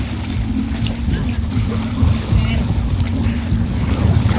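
Strong sea waves around a small boat, a constant loud rush of water and wind buffeting the microphone, with people speaking Filipino now and then over it.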